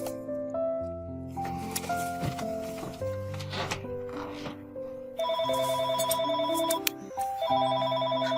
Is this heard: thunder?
no